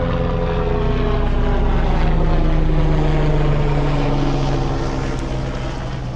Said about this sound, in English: wait for the helicopter to go overhead.